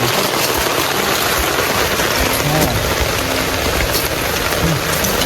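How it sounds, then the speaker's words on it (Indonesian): Heavy rain pours steadily through a forest, a dense, loud hiss of drops that never lets up, with faint voices half-buried beneath it. "Sambil menunggu hujan reda"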